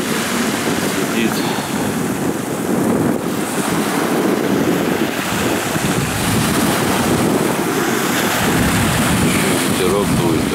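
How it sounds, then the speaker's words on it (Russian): Steady wind blowing on a winter seaside embankment at Lazarevskoye, Sochi, with a continuous broadband rush and buffeting against the microphone, waves and surf mixed in. "Ветерок дует такой. Прохладно."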